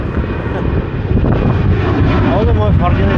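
A small airplane passes over Hong Kong International Airport, its engine drone steady and fairly loud against wind buffeting the microphone, with a voice talking over it.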